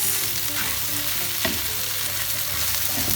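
Parmesan gnocchi browning in a pan with mushrooms gives off a loud, steady close sizzle, with faint stirring scrapes folded into the constant frying hiss and no talking.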